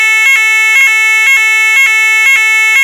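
ESSER No. 6 fire alarm sounding a loud, steady electronic tone broken by short, regular pulses about every half second, harsh and continuous.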